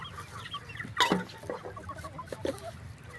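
Kampung chickens cluck nearby in short, scattered calls, with a sharper burst near the start and another toward the end over a low farmyard background.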